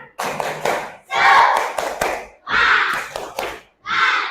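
A school class of fifth graders performs a rhythmic group clap chant, with bursts of clapping and voices in short patterned phrases separated by brief pauses.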